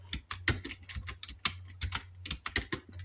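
Rapid, uneven clatter of keys on a computer keyboard during Hindi Krutidev typing practice, close and clear, with individual keystrokes and short bursts and no talking.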